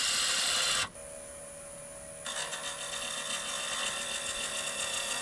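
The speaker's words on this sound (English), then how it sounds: "A little bit of shear scraping, riding the bevel." Woodturning lathe with a tool shear scraping a live edge crotch, riding the bevel; a steady close mechanical whine and buzz with a brief quieter dip near the start, then continuous cutting noise.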